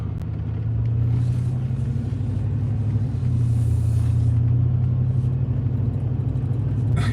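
An old beater pickup truck's engine runs steadily with a loud, continuous low rumble that holds at a constant level throughout, with no voices.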